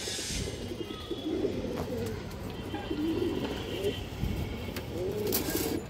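Fancy pigeons, a pair of khaki-type birds, coo nearby in repeated low rolling phrases, with faint background rumble from a passing car.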